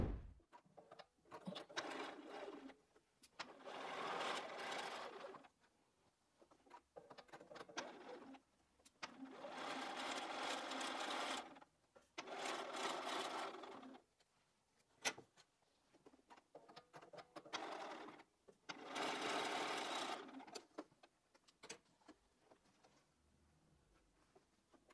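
A sewing machine stitches pieced quilt block fabric in several bursts of steady whirring, close and moderately loud, separated by short pauses and small clicks.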